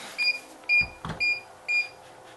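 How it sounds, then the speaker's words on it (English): A self-leveling laser level beeps steadily while it levels itself: four clear, evenly spaced high electronic tones, close and alone, with a couple of soft knocks in between. "it's beeping now because it's not level"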